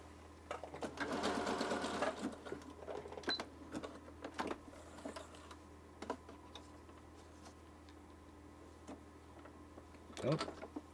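A home sewing machine with a repaired bobbin case stitches a maximum-width zigzag in a rapid mechanical rattle, then continues in lighter, uneven clicks and taps.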